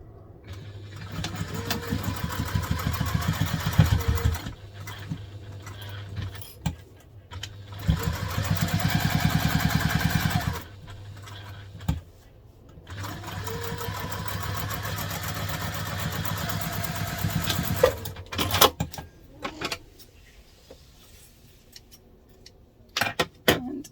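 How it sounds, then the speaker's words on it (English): A sewing machine top stitches across a quilting cotton crosspack in long, loud, whirring runs broken by short stops and a few clunks. "Now we are going to top stitch across the whole thing."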